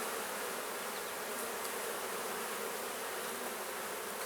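Honey bees buzz steadily during honey extraction, a dense continuous drone of many insects close around, with no talk.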